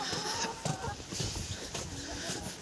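A young rooster and hens cluck in short, scattered bursts close by, amid farmyard noise and brief rustling.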